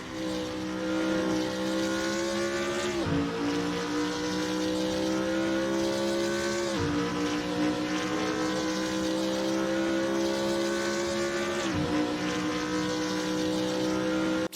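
A race car in a video game brakes into Parabolica at Monza, its engine loud and continuous with a buzzy harmonic whine that rises through each gear, then drops abruptly on three distinct shifts, heard alone without voices.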